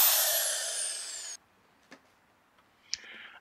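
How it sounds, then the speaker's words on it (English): A leaf blower running off an EcoFlow River Max portable power station gives a loud, steady rushing roar with a falling whine. It cuts off after about a second, leaving near-silence with a few faint clicks. "Leaf blower."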